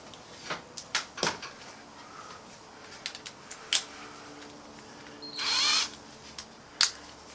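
A stainless bolt with three Dremel-cut slots is run into a thread on a 2011 Harley-Davidson FXDC to clean it, giving scattered scraping clicks and a short grinding burst, close and alone without talk.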